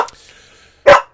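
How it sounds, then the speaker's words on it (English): A single sharp, close dog bark rings out near the end, after a faint trailing murmur and a brief quiet pause. "Why are you barking at me?"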